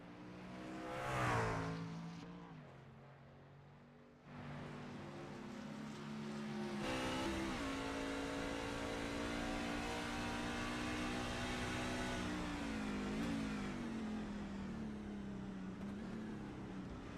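A racing truck engine from a Sweet Tea Gang Trucks Series race on the Charlotte Roval, revving and dropping pitch through slow corners, then holding a steady loud drone as it accelerates away.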